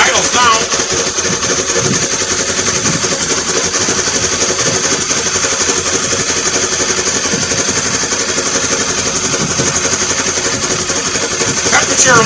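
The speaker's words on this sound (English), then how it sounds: "Alright, it idles now." Polaris Ranger XP 900 EPS engine idling with a steady, busy mechanical clatter and a fast, even pulse, close and continuous throughout.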